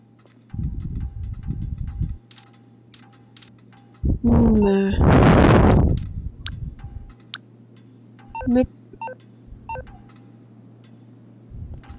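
A phone in the game GTA Online dials out with a quick series of beeping keypad tones, followed by a loud burst of in-game sound and a few scattered electronic chirps.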